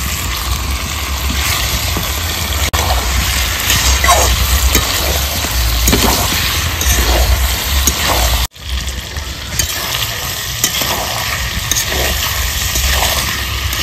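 Desi rooster curry with fried potatoes sizzles steadily in a pan while being stirred, a continuous loud frying hiss with soft scraping, no talking.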